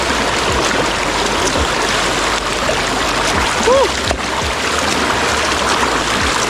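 Cold stream water flowing steadily with trickling and light splashing, close by, while people exclaim and talk over it outdoors.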